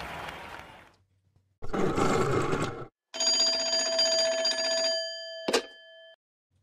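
Telephone ringing jingle used as a bumper when a Swedish football podcast calls a guest: loud ringing bursts with a roar-like sweep, then a sustained tonal ring with a sharp accent near the end, no talk.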